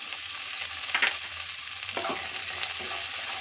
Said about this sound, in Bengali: দিয়ে এটাকে ভালো করে নাড়িয়ে একটু ভেজে নেব